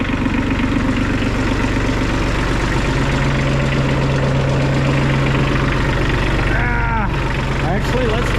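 A New Holland tractor engine with a host of problems idles in a shop, a steady low rumble running throughout, with a brief mechanical squeal near the end.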